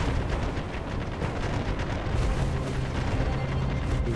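Ship cannons firing scatter shot during a naval battle in the Republic of Pirates video game, a dense, continuous rumble of overlapping booms and blasts with no clear gaps.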